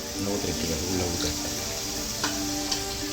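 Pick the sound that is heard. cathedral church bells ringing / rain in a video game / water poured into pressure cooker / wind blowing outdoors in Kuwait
water poured into pressure cooker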